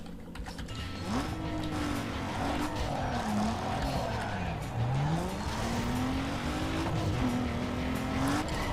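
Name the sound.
drag race cars in Need for Speed Underground 2 video game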